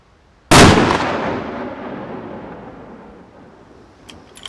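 A single loud rifle shot cracks close by during test firing in a hotel courtyard in the Austrian Alps before an ibex hunt, its echo rolling away slowly over several seconds, with faint clicks near the end.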